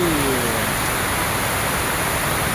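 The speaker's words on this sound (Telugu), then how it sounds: "బాగా వర్షం పడుతుందండి." Heavy evening rain pours outdoors near Osmania University, a loud, dense, unbroken hiss of falling water with no gaps throughout.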